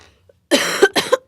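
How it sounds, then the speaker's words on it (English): Two sharp coughs, close and fairly loud, one right after the other, following a brief quiet moment. "I guess I shouldn't cough into my hand"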